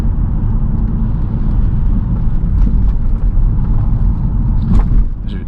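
Steady low engine rumble from inside a moving Jaguar S-type R, continuous and fairly loud, with faint rattles and clicks over the drone; the car has a fault.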